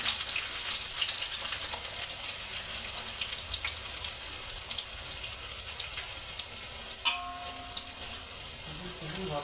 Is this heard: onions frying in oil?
yes